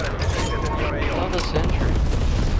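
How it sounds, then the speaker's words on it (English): Napalm strike explosions in a first-person shooter match: loud, continuous low booming and rumbling carry through the whole stretch, with a player talking over the blasts. "Enemy napalm strike incoming."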